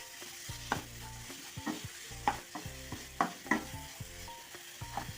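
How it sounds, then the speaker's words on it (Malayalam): A thick banana mixture with cardamom powder is stirred in a pan, giving a series of soft scraping and clacking spoon strokes over a quiet sizzle, close and without speech. "ഇതിലേക്ക് നമുക്ക് ഒരു ടീസ്പൂൺ കാൽ ടീസ്പൂൺ ഏലക്ക പൊടിച്ചതും കൂടെ ചേർത്ത് മിക്സ് ചെയ്യാം"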